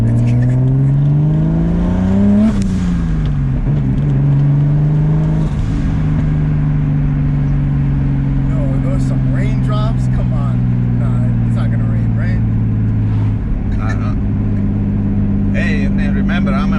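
A 500 whp turbocharged M50-engined BMW E30 pulls hard on the road, its loud, close engine note climbing under acceleration, dropping on each shift and climbing again, with voices faintly in the cabin.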